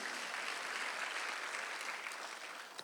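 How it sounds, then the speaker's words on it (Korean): A church congregation claps steadily during a Sunday worship service, with dense applause that fades slightly at the end. "박수를 치며 하나님께 영광을 드리세요"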